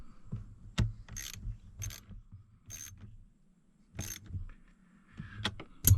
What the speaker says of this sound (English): we got us a 10mm ratchet wrench and a socket